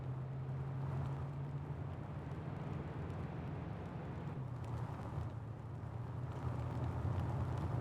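Vehicle driving at night in the video game Arma 3, a steady low engine drone with a constant rumble and faint wind-like noise, even and moderately quiet throughout.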